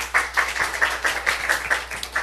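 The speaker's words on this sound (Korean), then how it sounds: "우리 하나님 박수 올려드려요." A church congregation claps in a steady, quick unison rhythm, about ten sharp claps at moderate volume with no voices over them.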